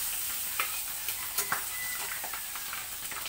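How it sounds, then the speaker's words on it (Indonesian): Sambal belacan of garlic, bird's eye chillies, red chillies and shrimp paste frying in a pan, with a steady close sizzle and a few sharp pops and stirring clatters scattered through it. "Okey, kita goreng sambal belacan ni."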